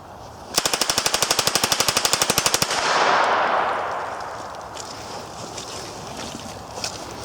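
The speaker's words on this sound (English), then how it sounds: "All right, let's see if it'll do a whole mag." A Thompson submachine gun fitted with a .22 conversion empties a full magazine in one fast, steady burst of about twenty evenly spaced shots, loud and close, followed by a fading rumble and quiet outdoor air.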